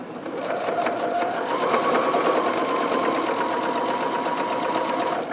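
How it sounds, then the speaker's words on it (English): A sewing machine stitches fabric for a locker caddy, running in one steady, continuous burst of rapid needle strokes, close and fairly loud with no talking over it. "sew all the way to the edge of that pocket, keeping these edges nice and lined up"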